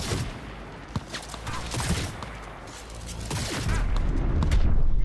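Sniper rifle shots in Cyberpunk 2077, loud sharp cracks with booming tails fired in an irregular sequence amid game ambience and other gunfire, under a voice.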